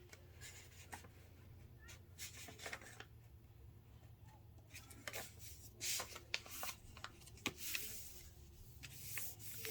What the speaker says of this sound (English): Adjust the paper when you fold,